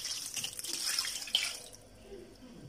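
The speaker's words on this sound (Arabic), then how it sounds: "ها هو في الطنجره ديالنا، غنزيد له واحد كاس ديال الماء" A glass of water poured into a cooking pot holding seasoned lamb shoulder, a short splashing pour that fades into quiet, close by, no talk.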